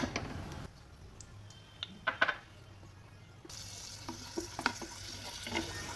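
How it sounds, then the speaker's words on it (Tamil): Cashews and raisins fry in hot ghee, giving a soft, steady sizzle with scattered light clicks and taps of stirring, fairly quiet and with no talking. "நெய் சூடானதும் முந்திரி திராட்சை நம்ம வறுத்து எடுத்துக்கலாம்."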